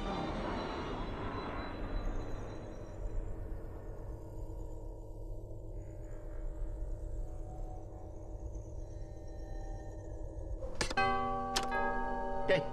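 Inside the LEGO Star Wars: The Skywalker Saga game, a doorbell rings out as a bright, multi-tone chime near the end, following a long stretch of quiet, low ambient hum with soft ticking.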